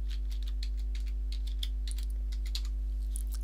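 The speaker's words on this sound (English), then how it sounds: "I shall enter my password" A password being typed on a computer keyboard: a quick run of light, close key clicks in an irregular rhythm over a low steady hum, with no talking.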